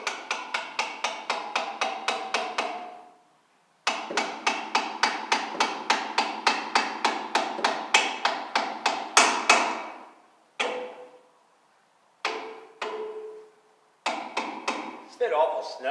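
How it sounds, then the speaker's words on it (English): Steel U-bolts being hammered onto a 1968 Mustang in a workshop: sharp, close metallic blows in rapid regular bursts of a dozen or more, separated by short pauses, then a few isolated strikes. "I'm going to have to hammer these on"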